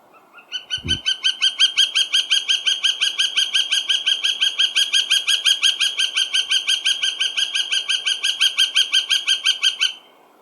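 A loud, rapid series of ringing northern flicker calls repeats steadily for about nine seconds, close and clear, with a single low thump near the start.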